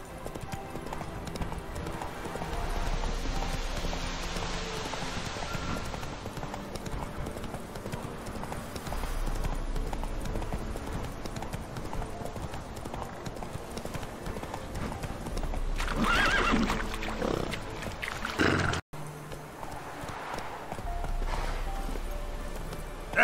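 Roach, a horse in The Witcher 3: Wild Hunt, trots and gallops in a steady clip-clop of hooves over ambient game sound, with an occasional snort.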